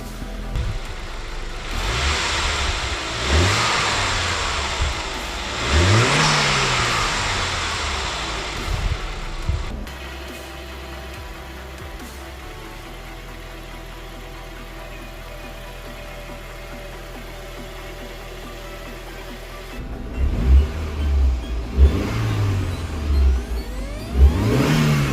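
Saab 9-5 Aero with a hybrid turbo, set up as a track car, starts and revs repeatedly, rising and falling engine roars around a steadier idling stretch, close and loud with no talking.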